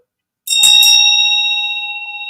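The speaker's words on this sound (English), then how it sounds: "It is a cute bell." A small decorative bell struck once, ringing with a bright, clear metallic tone that sustains and slowly fades over nearly two seconds, close and alone.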